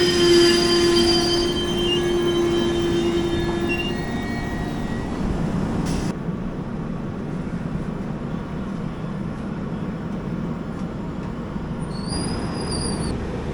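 The Pune–Kanniyakumari Jayanthi Janatha Express passenger train rumbles steadily along the rails, a loud continuous roar with wheel squeals early on and a brief high screech near the end, heard from on board.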